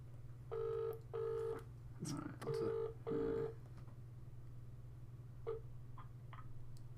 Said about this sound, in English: Oh no, it's ringing.